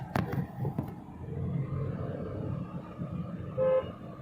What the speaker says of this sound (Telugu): హార్న్ కొట్టావా?